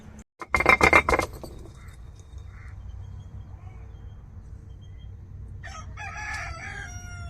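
Rooster crowing loudly and close at the start, then quieter clucking and calls from chickens in a morning yard, with a low steady background hum throughout.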